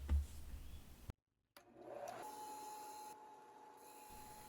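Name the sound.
8-inch sanding disc thinning knife scales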